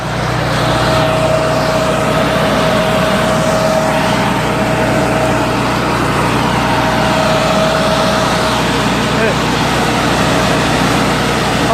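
A Hattat H2200 tractor engine runs hard on a steep, roughly 70-percent hazelnut-harvesting slope, powering a 120 m hose; a loud, continuous low drone with a steady whine lasts throughout and is heard alone.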